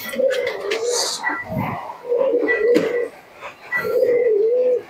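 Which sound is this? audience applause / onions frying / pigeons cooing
pigeons cooing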